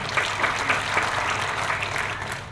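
A church congregation applauds during a New Year's sermon, a loud, dense burst of clapping from many hands that carries on evenly without any voices.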